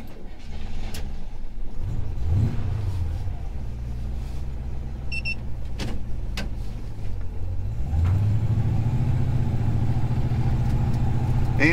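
A 1977 Chevy C10 engine on Fitech EFI, running slightly rich, rumbles close from inside the truck, with two rising revs early and near the end between steady running, and no talk.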